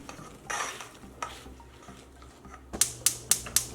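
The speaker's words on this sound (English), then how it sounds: "Add fresh raspberries, cherries, granulated sugar, and lemon juice in a pan and mix." Fresh raspberries, cherries, sugar and lemon juice get stirred in a pan: soft scraping at first, then four sharp utensil clicks against the pan in quick succession, close and quiet.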